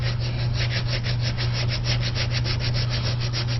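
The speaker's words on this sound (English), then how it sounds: "we're going to do a little sanding right on that corner." Wet sanding of polyester fiberglass with 360-grit sandpaper wrapped on a stir stick: a steady, close, rhythmic rubbing of quick back-and-forth strokes, with no talking.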